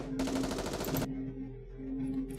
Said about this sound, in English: Soon after, there is the sound of gunfire, and screams fill the streets.